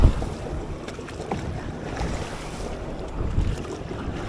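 A dragon boat paddled during training, with steady water splashing and lapping against the hull under strong wind noise, no talk heard.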